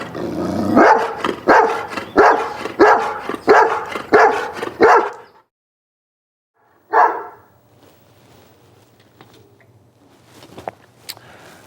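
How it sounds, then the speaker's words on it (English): A dog barking in a backyard during a police training scenario: a steady run of loud, close, repeated barks, then a pause, one more bark and faint rustling and knocks. "Whoa, dog in the yard."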